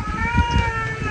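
A cat meows in a short, close, fairly loud call, with household voices and eating noises in the background.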